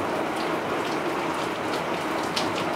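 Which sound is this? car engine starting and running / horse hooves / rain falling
rain falling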